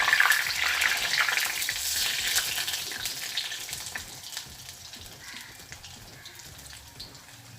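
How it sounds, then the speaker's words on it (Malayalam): Madura seva dough sizzles in hot oil as it is turned over, a loud crackling fry at first that gradually settles into a softer, steady bubbling. "ഇതുപോലെ എണ്ണയുടെ ഒക്കെ ഒഴിച്ചിട്ട് നമുക്ക് തിരിച്ചും മറിച്ചും ഇട്ട് മൂപ്പിച്ചെടുക്കണം"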